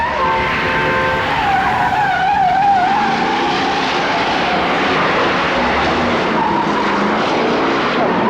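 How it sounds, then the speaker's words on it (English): A 1971 film car chase, tyres screeching in long wavering squeals over a loud roaring engine and traffic din, the skid sweeping up and down before fading into continuous engine rumble. "Nobody does a car chase like Billy."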